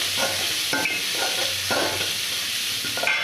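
Asafoetida fries in hot oil with chillies for a chickpea sundal while being stirred: a loud, steady sizzle and hiss close by, with a few regular scraping strokes of a spoon and no speech.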